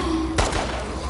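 A single sharp gunshot in The Last of Us Part II, one close, punchy crack partway through over a low game background hum.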